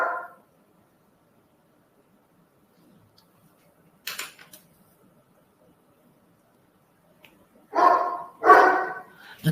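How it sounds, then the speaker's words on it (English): A neighbor's dog barks a few times from outside on a summer day through open windows, short distant yelps separated by long quiet stretches. "That is the neighbor's dog."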